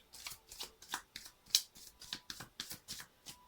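Rapid, crisp riffling of tarot cards being shuffled, a quick run of soft papery slaps close up with no talking.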